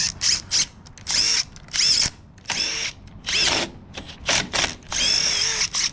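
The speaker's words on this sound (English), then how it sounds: "It's hammering again, even though I just did that, because there's concrete dust at the bottom of the hole." Hammer drill boring anchor holes into concrete, loud repeated bursts of rattling, whining drilling separated by brief pauses, close and dominant.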